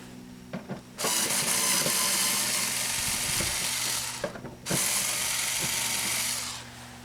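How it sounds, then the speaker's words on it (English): A ratchet spins out long 7mm screws on the cowl water deflector of a 2006 Chevy HHR, giving a steady close buzzing click in two long runs separated by a brief pause and a few handling knocks. "If you're using a ratchet on these, be prepared for some real turning."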